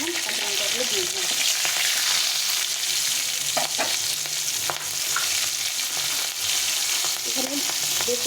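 Black cumin and green chillies frying in hot oil, a loud continuous sizzle with crackling bursts and occasional clinks of stirring, no voices.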